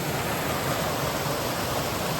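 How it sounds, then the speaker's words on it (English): A small river tumbles past on a mountain trail, a steady, close rush of running water filling the whole moment with no breaks or voices. "This is a little river system I just came through."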